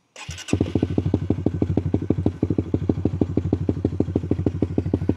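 A remapped Honda Winner X motorcycle with no exhaust silencer starts with a clatter and settles into a loud, rapid popping idle, each exhaust pulse raw and sharp without any muffling.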